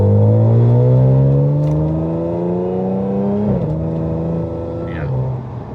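An Audi S5 engine fitted with a modified intake and silicone insert revs strongly, with the pitch climbing and falling across several loud sweeps. It holds steady near the microphone, and the revving stays clearly in front.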